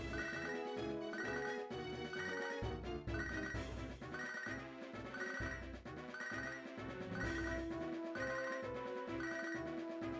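A phone call rings in a Pokémon video game, an electronic ringtone repeating in steady regular bursts over a musical backdrop, loud and unbroken across the whole stretch with no talking.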